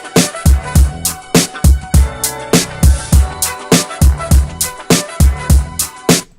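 A sample-based hip-hop beat built on a music sample, with shakers, hits, a snare and a clap looping in a steady, punchy rhythm, loud and up front with strong low kicks and bright percussive transients throughout.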